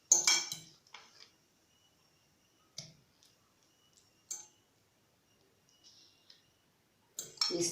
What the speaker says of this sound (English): We stir.